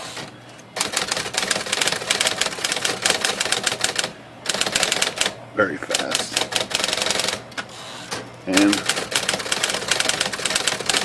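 A blue 1958 Smith Corona 5TE electric typewriter, freshly serviced with new rubber grommets, being typed on fast: dense, rapid mechanical key strikes in bursts with brief pauses, close and loud, with someone talking briefly.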